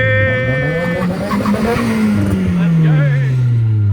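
A Volvo drift car on a passenger lap: the engine revs climb and fall as the tires squeal and skid, loud and close inside the cabin, with people talking over it.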